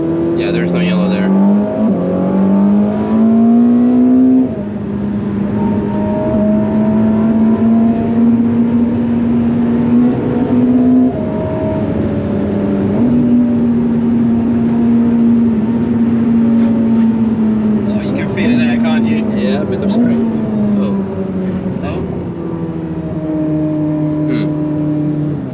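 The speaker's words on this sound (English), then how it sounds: "I swapped the mic to be rear biased because you can hear the intake noises quite good" A Ferrari SF90 engine drones steadily near a rear-biased mic, its intake note rising and falling with revs throughout, with faint background noise.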